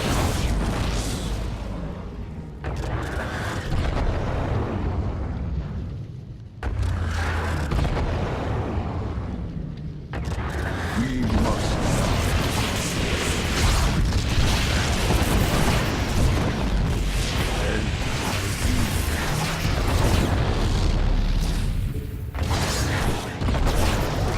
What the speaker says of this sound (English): Particle cannons have been destroyed